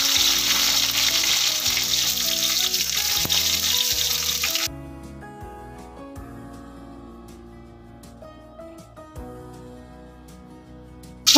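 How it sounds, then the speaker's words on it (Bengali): Chopped tomato goes into hot oil seasoned with dried red chilli and mustard seeds for a Bengali shim chorchori, a loud, dense sizzle that abruptly drops to a quieter, sparse crackle and pop. "কুচিয়ে রাখা টমেটোটা দিয়ে দিচ্ছি।"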